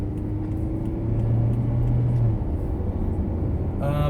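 A car cruising along the Gateway Motorway in Brisbane, a steady low road rumble and engine drone heard from inside the cabin, with a brief rising tone near the end.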